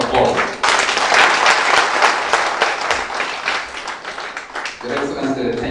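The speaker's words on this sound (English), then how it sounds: "Can we give a big round of applause?" A big round of applause sweeps through the audience at a Tooro peoples' conference, loud and sustained, then thins toward the end as a voice begins talking over it.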